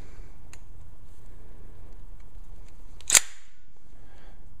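A powder-actuated fastener gun fires a blank .22 cartridge to drive a fastener during a property renovation, giving one sharp, loud bang midway with a short ring, over quiet room hum.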